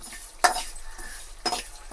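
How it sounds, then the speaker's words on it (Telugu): Mustard seeds, cumin and fenugreek dry-roasting in a pan: soft stirring scrapes with faint sizzling and a couple of sharp metallic clinks, close and quiet, with no talk. "కొన్ని తీసుకొని ఇలా ఫ్రై చేసుకోవాలి కొంచెం రోస్ట్ చేసుకుంటే సరిపోతుంది"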